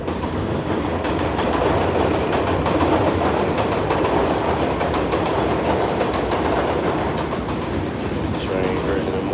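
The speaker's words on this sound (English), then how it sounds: "Train early in the morning." A train rolls past on an early-morning New York City line, a steady, loud rumble with rhythmic wheel clatter filling the whole stretch close by.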